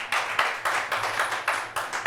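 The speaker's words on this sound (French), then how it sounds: "Merci de l'ovationner très fort," Audience clapping to welcome an Ivorian film actor introduced at a live show, a steady patter of hands with rhythmic swells, fairly close and moderately loud, with no talking.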